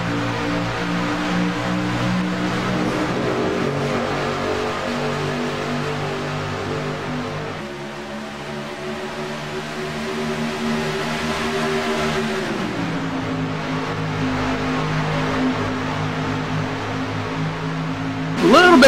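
Racing trucks in a truck series race at Auto Club Speedway, engines droning loudly and steadily with shifting harmonic pitch as the pack runs side by side, a brief louder burst at the end.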